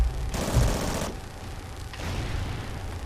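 Gunfire in the online shooter Dropzone: a dense burst of rapid automatic shots for nearly a second, then a quieter rattle of follow-up fire over a constant low game-background hum.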